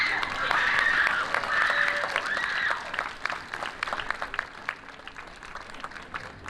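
A school awards ceremony audience applauds its award winners: a full, loud burst of clapping with cheers and whoops on top at first, then thinning to scattered claps.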